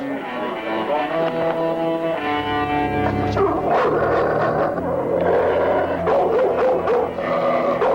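Dogs barking and growling as a dog fight begins, a rough mix of loud snarls and barks mixed with an urgent background score.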